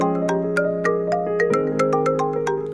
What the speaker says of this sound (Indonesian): Telepon. Bentar ya, bentar.